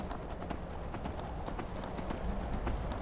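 Horse hooves clip-clop steadily in Skyrim as a mount trots up a mountain path toward the Shrine of Azura, a continuous close rhythm of hoofbeats over outdoor game ambience.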